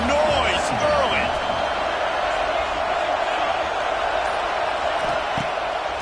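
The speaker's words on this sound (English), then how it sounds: "This crowd bringing the energy and noise early." Stadium crowd noise at Autzen Stadium during a football game, a steady loud roar of many voices with scattered whoops and shouts throughout, underneath a play-by-play commentator talking.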